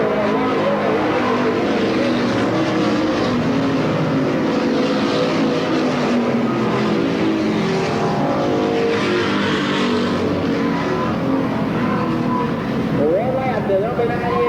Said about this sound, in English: The number 98 car, your race leader, Jim Hart, taking through the north end for the final time